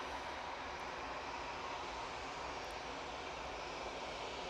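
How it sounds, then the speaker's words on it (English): A Ryanair airliner rolls down the runway for takeoff at Manchester Airport, its engines producing a steady, broad roar that stays constant and fairly distant throughout, with no voices. "Okay, Ryanair's on the roll."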